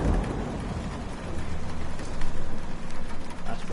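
Steady rain hisses over a rainy landscape in the Death Stranding video game, a dense broadband wash with low rumble beneath, swelling slightly louder partway through.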